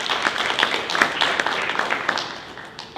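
Audience applause at a college facilities master plan meeting, a moderate crowd clapping with scattered distinct claps, steady for a few seconds before tapering off slightly.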